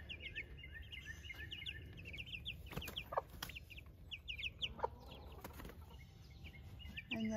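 A Silver Lace Wyandotte hen and other backyard chickens, young and grown, clucking faintly, with soft scattered calls and a brief flutter of wings over quiet outdoor background.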